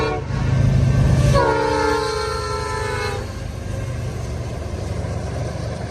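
A CN freight train with SD70M-2 and GMD1 locomotives rumbles past loudly and close, its horn sounding a chord for about two seconds over the heavy rolling noise of the wagons.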